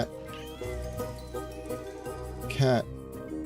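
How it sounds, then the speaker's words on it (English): A cat meows in the Solnest video game demo, a short rising call near the end that stands out over busy game music and someone talking. "Cat."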